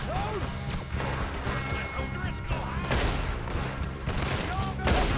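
Gunfire from Red Dead Redemption 2 rings out in a steady run of loud, overlapping shots and sharp cracks that continue through the whole stretch. A voice talks now and then over the shooting.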